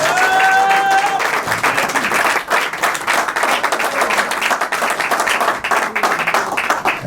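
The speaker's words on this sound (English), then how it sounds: "Let's give a loud applause for Nick Smith." Loud, dense applause from an audience at an interview event, a crowd clapping steadily and continuously throughout, with a short whistle near the start.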